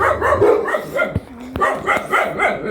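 Dogs bark repeatedly in quick, uneven yaps and yips, close and fairly loud, with a couple of sharp knocks in between.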